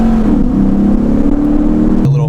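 A Lexus IS F with an 8-speed transmission pulls hard in first gear, its engine droning loud and close with a climbing, rasping note before dropping sharply at the upshift.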